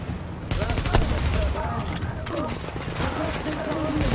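Gunfire in the video game The Division comes as steady rapid shots and scattered cracks. A voice talks over the continuous firing.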